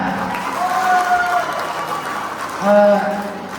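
An audience claps steadily at the Mopin Festival celebration in Khonsa, the applause a continuous wash of noise beneath someone speaking over a microphone.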